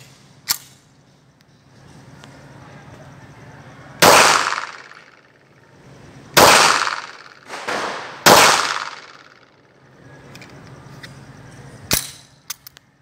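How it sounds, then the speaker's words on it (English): Pistol shots from a Tanfoglio / Rock Island Armory MAPP 1 MS firing short hollow point rounds, about five sharp reports at irregular intervals over about twelve seconds, loud and near, with quiet gaps between. "so now we're gonna shoot the hollow points, the real short hollow points."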